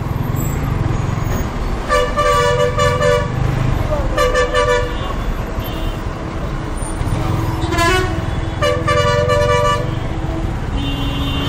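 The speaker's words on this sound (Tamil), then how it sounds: "பட் டிராஃபிக் இருக்குது" Road traffic on an early-morning ride on a Yamaha R15 V3 motorcycle, with repeated loud horn toots in several bursts over a steady roar of wind and engines, nearby vehicles honking close by.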